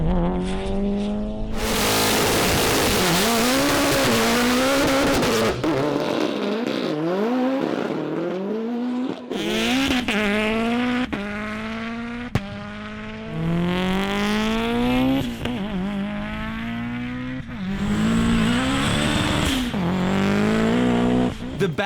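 A Mitsubishi Evo all-wheel-drive car in the 4-cylinder AWD class makes a hard drag-racing run: loud, sustained engine revving with rising pitch sweeps through repeated gear changes, tire squeal and crowd or announcer noise mixed underneath.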